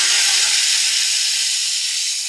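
Whole masoor lentils hit a hot tempering of oil and spices and sizzle loudly up close, a dense, steady hiss that fades only slightly, heard alone with no talking.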